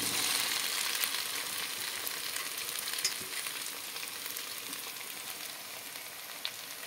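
Fried soybean chunks and potatoes hit a pan of cooked-down frying spice paste for a soybean curry, giving a steady, soft hiss and sizzle with faint stirring taps, continuous and without talk.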